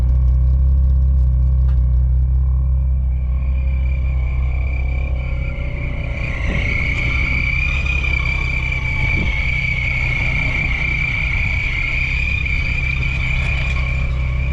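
A Volkswagen VR6 engine runs steadily at a car show, a low, rumbling drone with a rising whine partway through, loud and close with no voices.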